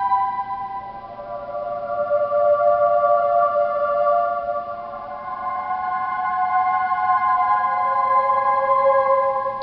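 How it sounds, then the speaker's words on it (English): A voice choir patch on a synthesizer holds a sustained, airy chord for several seconds, swelling gently and shifting notes partway through, with no talking over it. "I have a female voice choir."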